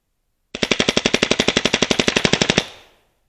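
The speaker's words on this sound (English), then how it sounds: "Let's go take another auto burst, left side of the target, exact same deal." A Valken M17 paintball marker fires a full-auto burst at a target. About twenty rapid, evenly spaced loud pops run for two seconds, then there is a short fading tail.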